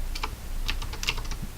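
Keys clatter on a computer keyboard during programming, a quick irregular run of close, light taps with no voices.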